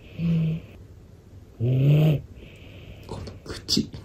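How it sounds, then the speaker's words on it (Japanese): A sleeping dog snores in a hotel room, two long, loud rumbling breaths a second apart followed by softer snuffling and small noises, close to the microphone. "ムニオのいびき"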